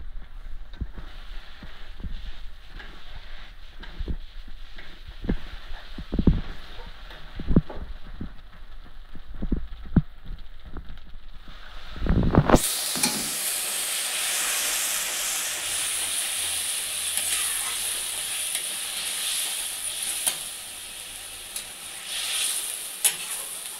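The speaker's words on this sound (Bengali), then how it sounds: "তো মশলাটা কষাকষি হচ্ছে" Spice paste and potatoes fry in a pan for a katla fish and potato curry, first with a crackling sizzle and clatter from stirring, then a sudden loud, sustained steam hiss that fills the rest.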